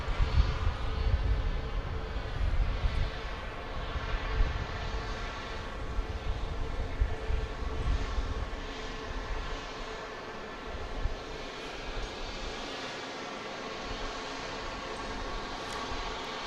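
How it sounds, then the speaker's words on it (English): A Southwest Airlines jet departing Dallas Love Field for Indianapolis roars loudly with a steady engine whine and rumble that eases slightly toward the end, with no voices over it. "that was a late departure to Indianapolis on Southwest 1572"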